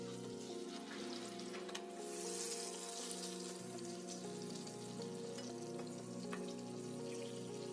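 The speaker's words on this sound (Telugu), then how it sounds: "దీన్ని ఇప్పుడు ఈ నేతిలో వేసి వేయించుకోవాలి" Small pieces of ripe Nendran banana fry in ghee, a steady quiet sizzle and crackle throughout with occasional faint stirring clinks.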